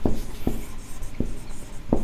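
A pen writes on paper during a maths lesson, with short scratchy strokes tapping out at uneven intervals, close and moderately loud against a quiet background.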